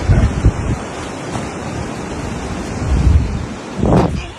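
Water surges through a flood-damaged water scheme intake in Saraj, Mandi, as a loud, continuous rushing roar mixed with gusting wind buffeting the microphone, with no talk.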